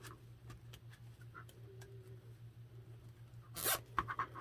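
A plastic zip tie is pulled tight while fastening a Valentine ruffle wreath, giving one brief, quiet ratcheting zip near the end over a low steady hum and small handling ticks.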